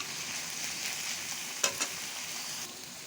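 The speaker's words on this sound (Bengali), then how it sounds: "লবণ আর 1 চামচ আদা রসুনের পেস্ট দিয়ে পেস্টটা ভেজে নেব" Ginger garlic paste with salt fries in a pan under a steady, fairly quiet sizzle, broken by two sharp scraping clicks from the spoon near the middle.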